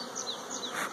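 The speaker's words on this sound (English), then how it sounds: "Look at all those bees." Honey bees swarm around an open hive during a beekeeping inspection, their dense, continuous buzzing close and steady, with individual bees whining past.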